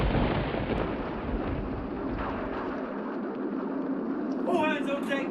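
Storm at sea from a period sailing drama: a loud, continuous roar of wind, rain and rumbling thunder with a heavy low-end surge, easing slightly toward the end as a voice begins to call out over it.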